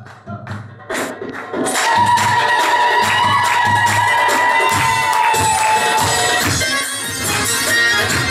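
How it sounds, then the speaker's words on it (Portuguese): Crowd at an Arab restaurant with live music and dancers clapping and cheering for a dancer, a dense, loud wash of claps, shouts and whoops that swells after a quieter start and carries over music. "Palmas pra Regina!"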